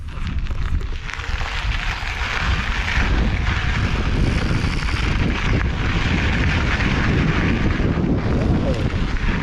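A Bulls Copperhead EVO AM 4 electric mountain bike being ridden outdoors produces a constant loud roar of wind and rolling noise throughout.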